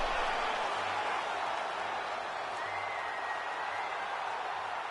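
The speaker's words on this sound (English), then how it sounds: "So the crowd voicing its appreciation after that round." A fight-event crowd applauds and cheers after a round that included a knockdown, a dense, steady roar of clapping and voices holding at an even level throughout.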